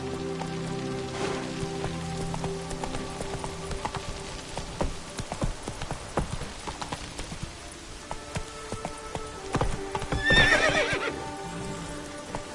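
A horse gallops through the Skellige region of a video game with a steady clip-clop of hooves, a loud whinny rising near the end, and rain pattering throughout.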